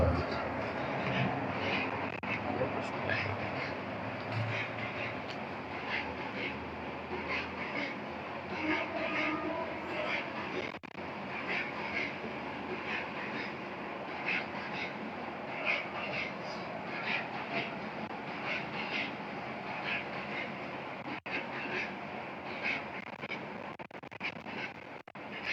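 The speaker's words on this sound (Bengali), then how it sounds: "ট্রেন যাচ্ছে, একটু অপেক্ষা করি।" A train passes by during a math lesson, a long continuous rumble and rattle of rail cars heard steadily from a moderate distance, with a voice speaking faintly over it at times.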